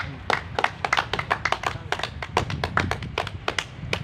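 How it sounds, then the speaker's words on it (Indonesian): A group of students claps hands together, a fast, uneven patter of sharp claps lasting several seconds, fairly close, with no talk over it. "Tepuk tangan dulu."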